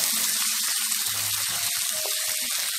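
Cold water poured into a pan of braising tofu, a short, steady splashing gush close by, with no talking.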